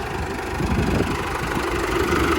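A tractor engine idles close by in a field, a steady low throbbing chug with a slight knock, continuous and unbroken with no voices.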